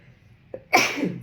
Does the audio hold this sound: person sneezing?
yes